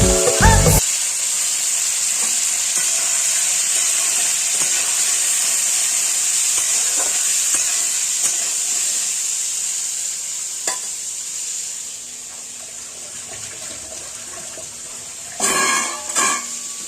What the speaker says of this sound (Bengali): দেখো নুন হলুদ দিয়ে আমি ভাজা বসিয়েছি নুন হলুদ দিয়ে ভেজে নেব